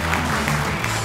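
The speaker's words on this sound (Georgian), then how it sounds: "დიდი მადლობა აპლოდისმენტებს" A studio audience at a Georgian TV comedy competition gives a brief burst of steady applause, loud and close, with faint tones running beneath it.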